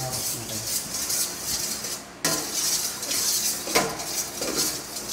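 Fresh milk in a pot over heat is stirred continuously, with a utensil scraping and clinking against the metal at close range, plus a couple of sharper knocks.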